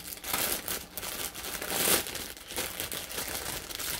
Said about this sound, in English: There will be crinkling in this one